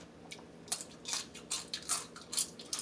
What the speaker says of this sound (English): This crab shell so crunchy.